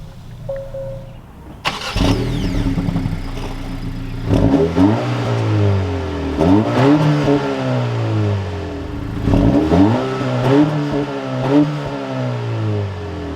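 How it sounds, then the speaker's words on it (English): A manual 2023 Acura Integra A-Spec engine cranks and fires up near the microphone, then settles into a steady idle that swells with several brief revs. "keeping my foot on the clutch, we can go ahead and fire it up."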